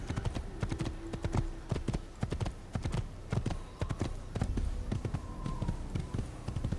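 A horse gallops in the Assassin's Creed video game, its hooves striking in a fast, continuous clip-clop rhythm up close, loud and steady throughout with no talk.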